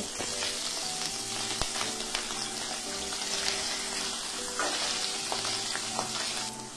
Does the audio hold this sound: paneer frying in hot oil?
yes